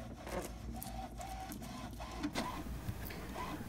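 An HP inkjet printer prints a test page, whirring and chattering steadily, its print head shuttling back and forth with rhythmic mechanical clatter, close and moderately quiet.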